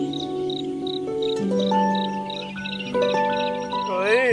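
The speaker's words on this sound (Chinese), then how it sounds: "你听这个呱呱呱呱呱的叫声" Frogs croak at night beside a fish pond, a steady layered chorus of trilling and droning calls with chirping insects mixed in, continuous and fairly close, with no voices.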